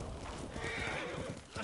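A horse in the Ghost of Tsushima video game neighs over the clatter of its hooves, a short, loud whinny amid steady trotting noise.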